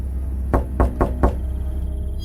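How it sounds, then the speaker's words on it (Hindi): Four sharp knocks on a house window at night, rapping in a quick, slightly uneven sequence, close and loud against a quiet, humming background. "अचानक घर की खिड़की पर किसी ने दस्तक दी।"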